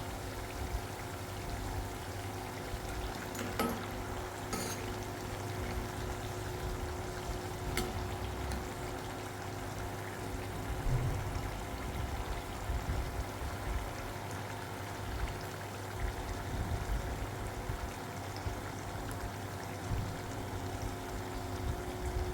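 Chakkidalu, a fried rice-flour snack, bubbling in hot oil, a steady broadband frying hiss with a low hum running the whole time and a couple of brief clinks near the start, no talk.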